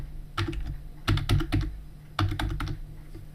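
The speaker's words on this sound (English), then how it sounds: "Just type your new password in here." Quick, close computer keyboard keystrokes come in two short clusters as a new password is typed, crisp clicks with a brief pause between them.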